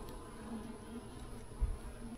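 A steady low buzzing hum of many honey bees at an opened hive, continuous and fairly quiet, with no voices.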